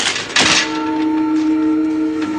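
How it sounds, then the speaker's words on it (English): A train passes with a sharp clank, then steady tonal rumbling and a sustained hum that fades slowly. "Draper, listen, that's the train."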